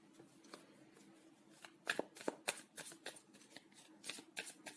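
Tarot cards being shuffled by hand, a run of crisp riffling bursts and soft flicks of the deck, close and fairly quiet, with no talk over them.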